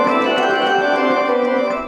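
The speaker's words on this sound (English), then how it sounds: "This is the sound of a 20-year-old organ." A 20-year-old organ sounds a loud, sustained chord, rich and steady with many held tones and no other sounds.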